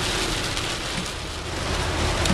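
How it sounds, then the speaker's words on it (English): Steady rain falling outdoors, a dense even hiss of drops filling the whole stretch without pause, fairly loud and close. "We like the rain. Rain is good."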